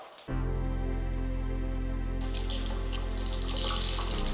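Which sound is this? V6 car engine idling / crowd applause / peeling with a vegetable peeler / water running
water running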